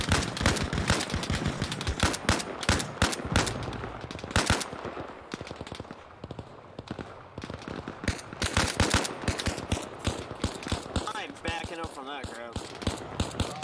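Rapid bursts of heavy 30 mm cannon fire pounding a tower in Arma Reforger, loud and repeated in stuttering volleys with brief pauses, mixed with other battlefield gunfire and a voice talking over it.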